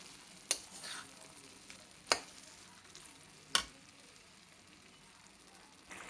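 Pumpkin halwa with jaggery stirred in a pan, a low bubbling sizzle broken by three or four distinct scraping strokes of the spoon at irregular intervals, quiet and close.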